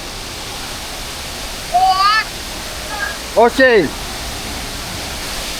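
A rushing Bali waterfall makes a constant, even hiss that fills the background, while a couple of brief voices cut in over it.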